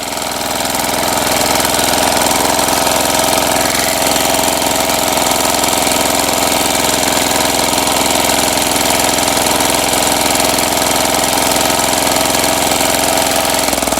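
An old walk-behind tractor engine runs steadily while tilling soil to prepare a plot for planting garlic, a loud, close, continuous rattling drone with no pauses.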